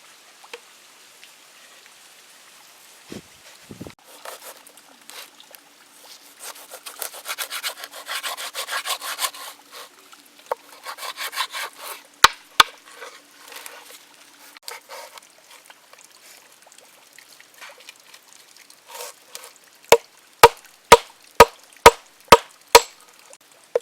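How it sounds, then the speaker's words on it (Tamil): Dried fish (karuvadu) being cut and cleaned, with steady close rubbing and scraping strokes followed by a run of sharp, evenly spaced chopping knocks near the end. "கருவாடை கட் பண்ணி க்ளீன் பண்ண போறோம்"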